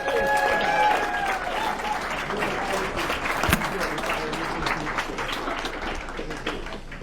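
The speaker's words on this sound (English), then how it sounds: "Give it a round of applause for Maxime Bernier for making it out here today" A crowd at a political rally applauds Maxime Bernier with a sustained wash of clapping and a few cheers, and a voice speaks briefly over it at the start.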